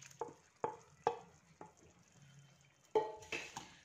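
Chopped ingredients for a mushroom and pea masala go into a frying pan, giving a series of sharp sizzles and clattering bursts, several separate additions spaced over a few seconds, fairly faint and close.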